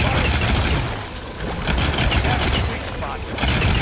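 In the video game Horizon Forbidden West, a dense, loud, continuous volley of gunfire pounds close by in waves. There is no talking in the clip.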